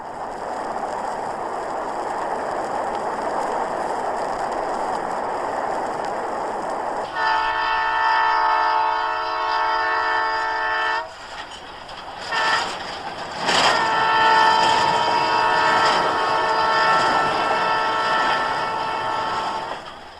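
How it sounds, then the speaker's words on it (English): A train rumbles past steadily; a loud horn blows for several seconds, then again after a short break, with rattling rail noise beneath throughout. "The long trains loaded with prairie grain bound for Europe"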